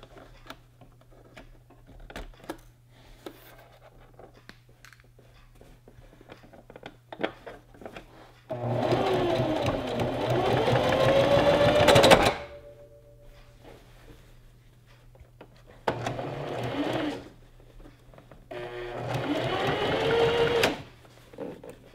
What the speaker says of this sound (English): we're just going to place it onto the machine and start sewing